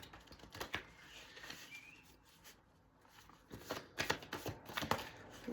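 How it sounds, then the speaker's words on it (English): Tarot cards being shuffled by hand, soft quick riffling and tapping bursts at close range, faint and intermittent with a quiet pause in the middle. "So I'm going to shuffle them all now"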